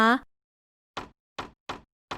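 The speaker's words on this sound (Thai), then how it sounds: "ประตูเรือนของนางเกิดเสียงดังโครมครามขึ้น" Loud banging on a wooden house door: four hard, separate knocks in an uneven rhythm, close and sharp, following a brief vocal sound at the start, with silence between the blows.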